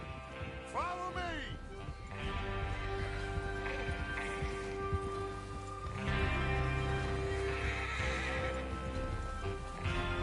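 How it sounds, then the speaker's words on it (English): Horse neighs and whinnies with clip-clopping hooves in the Wild West video game Red Dead Redemption 2, a sharp whinny early on over steady hoof beats, with background music and talk. "Get your horses ready."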